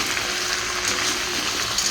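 Fish head sautéing in a pan with potato and pumpkin, a steady close sizzle of frying with faint stirring, continuous and alone.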